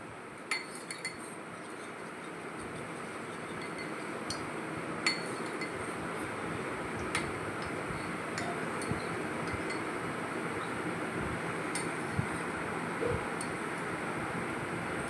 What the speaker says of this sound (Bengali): গুলিয়ে নিচ্ছি কাস্টার্ড পাউডারটা।